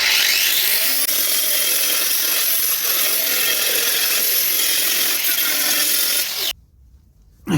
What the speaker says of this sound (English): you can see with a flat disc how quick that it eats through rust and stuff